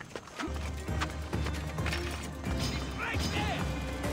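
Horses galloping in the Assassin's Creed Odyssey video game, with a steady clip-clop of hooves and an occasional whinny over a low rumbling game soundtrack, while players talk throughout.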